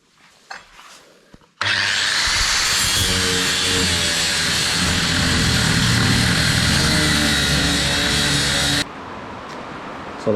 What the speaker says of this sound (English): I think we'll use the big grinder for this one now, so we will.